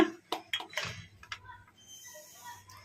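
Cashews tumble into a mixer jar already holding fried onions for an egg masala gravy, making a few quick, light clinks and taps close by, followed by quieter rattles.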